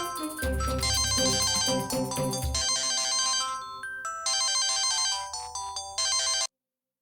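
A phone ringtone plays a bright repeating electronic melody, loud and close, with a brief gap before it resumes and then cuts off abruptly.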